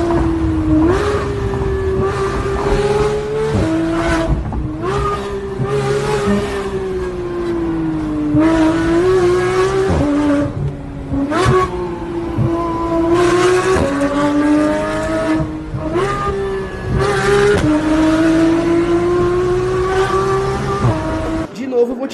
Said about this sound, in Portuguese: Tem uma coisa que eu gosto de ver é carro acelerando